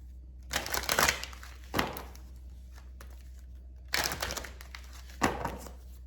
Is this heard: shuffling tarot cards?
yes